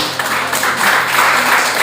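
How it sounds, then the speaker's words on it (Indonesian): Church congregation clapping together, a brief burst of dense hand applause, loud and close, with no speech over it. "Tepuk tangan buat Tuhan"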